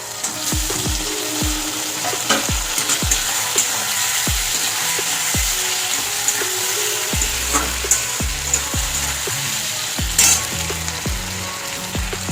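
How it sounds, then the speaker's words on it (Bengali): Chopped tomatoes fry in a pan for a spicy mourala fish curry: a constant loud sizzle broken by regular knocks and scrapes of a spatula stirring against the pan. "আমি টমেটোটা দিয়ে কষে নিয়েছি ভালো করে"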